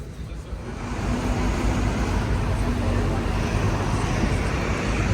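Dublin city buses rumble through busy street traffic, a steady broad roar of engines and road noise filling the scene with wind buffeting the microphone; talk is heard over it.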